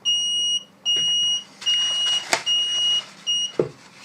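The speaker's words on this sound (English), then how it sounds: "And here we go with the beeps again" An electronic soldering device emits a series of shrill, evenly spaced beeps, nearby and loud, with a few soft clicks and thumps between them.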